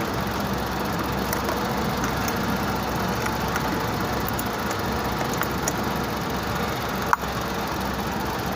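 A car engine idles steadily after the battery's positive terminal is removed, a constant close mechanical hum with one brief click near the end.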